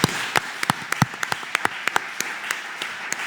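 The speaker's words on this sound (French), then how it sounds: "Applaudissements pour vous." A small television studio audience greets a real estate guest with sparse, scattered claps, a couple of dozen distinct hand strikes spread unevenly over about three seconds.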